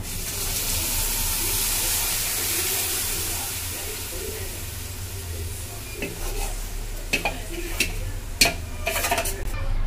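A spoon works spice paste into a pan of aloo kachori filling, with a steady sizzle at first giving way to quick, clattering scrapes and taps of utensil against pan toward the end.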